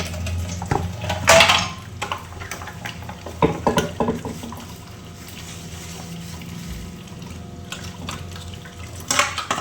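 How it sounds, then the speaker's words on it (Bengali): Dishes washed one at a time in a small kitchen sink: water trickling with intermittent clinks of pots, plates and cutlery, close and moderately loud, no talking. "ছোট সিঙ্ক না, তার জন্য না বেশি বাসন একবারে নামানো হয় না, একটা একটা করে মাজতে হয়, একটা একটা করে ধুতে হয়"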